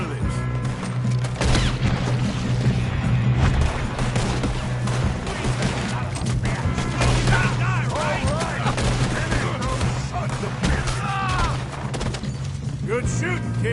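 Red Dead Redemption 2 gunfight during a train robbery, with continuous rapid gunfire, booms and impacts over a low rumble as voices shout throughout.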